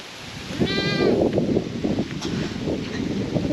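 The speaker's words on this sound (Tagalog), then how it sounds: "Grabe, ang daming kambing." A herd of goats out on rainy grazing ground, with one clear wavering bleat rising near the start over wind noise and low rumbling movement, the rest of the clip a steady breezy outdoor background.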